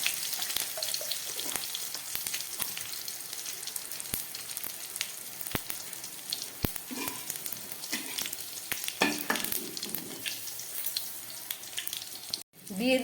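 Whole cumin seeds sizzling in hot oil alongside bay leaf for a home-style arhar dal, a steady close crackle with occasional utensil clinks.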